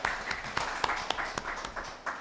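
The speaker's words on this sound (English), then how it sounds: "I want to hear a round of applause for everybody." A round of applause at a World Food Day panel discussion, with steady scattered clapping from an audience at moderate volume and individual claps standing out through the crowd sound.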